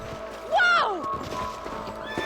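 A horse in Red Dead Redemption gives a loud, close whinny that rises and falls, with hooves clip-clopping on the ground beneath it and a voice speaking nearby.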